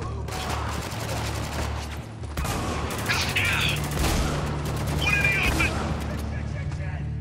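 Gunfire in the war shooter video game Spec Ops: The Line comes in dense, overlapping bursts of rapid shots over several seconds, loud and sustained with a short lull partway through.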